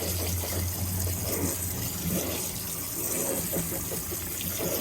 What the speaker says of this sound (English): I'm just giving them an extra good rinse.